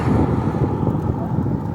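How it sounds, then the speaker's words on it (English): Low, rumbling wind noise pressing on the microphone, loud and steady over a short stretch. "Kind of windy."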